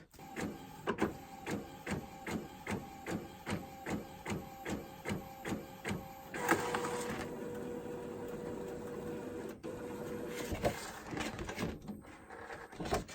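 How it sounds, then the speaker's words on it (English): An inkjet printer runs a sheet of watercolor paper through, its print head shuttling in a steady rhythm of repeated passes for several seconds, then a longer feed and whirring churn as the page advances, loud and close with no talking. "So that is the first sheet printed."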